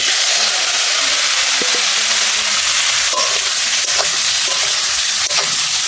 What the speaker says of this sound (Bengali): এবার যে তেলটা আছে তেলটার মধ্যে কপি আর আলুটা আমি ভেজে নেব।